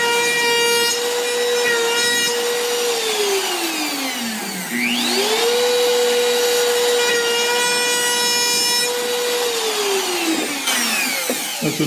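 Wood being cut by a power saw at a woodturners' gathering, a steady loud whine that drops in pitch as the blade bites and rises again when it frees, running continuously with no talking.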